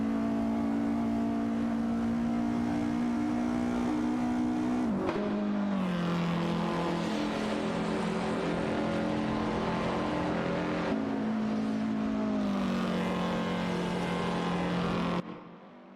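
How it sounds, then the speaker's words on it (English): AI-driven race cars in a racing video game roar continuously with a steady, loud high-pitched engine whine, dropping in pitch around five and eleven seconds as gears shift, then cutting off abruptly near the end. "The AI cars are zooming, and we're ready for some high-speed fun together."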